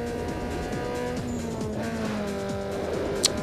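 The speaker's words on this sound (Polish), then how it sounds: "Teraz jak się odchudziło trochę ten samochód, to on faktycznie nieco łatwiej wpada w poślizg" A car in Need for Speed Underground 2 drifts with a sustained engine drone and repeated rapid gear-shift sweeps, tyres skidding throughout and a brief sharp squeal near the end.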